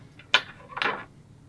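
Scissors snip deer hair close to the hide while tying a saltwater fly, giving two short, crisp cuts about half a second apart, close by and otherwise quiet.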